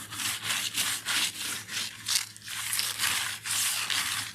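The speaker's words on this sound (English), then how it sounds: "when you're doing foils, you don't want to scrub in circles" Steady rhythmic scrubbing of foil onto a stacked pumpkin porch sign, close and continuous, with repeated back-and-forth rubbing strokes and a low hum underneath.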